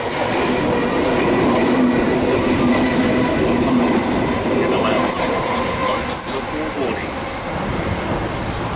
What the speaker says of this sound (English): We've got a freight train passing platform number 1